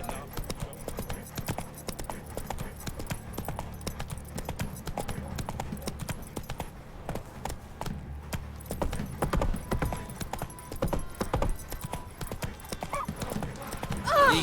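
Roach, Geralt's horse in The Witcher 3: Wild Hunt, galloping with a rapid, continuous clatter of hooves, joined by occasional snorts and whinnies, over game music and ambient sound; a voice speaks briefly.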